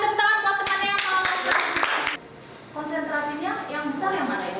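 Classroom applause for a student: several sharp, scattered handclaps over about two seconds, close and fairly loud, with children's voices talking and calling out around and after the clapping.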